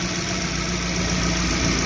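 A Suzuki New Carry engine idles close up, a steady, even rumble with slight unevenness from a shaking engine, heard alone without talk.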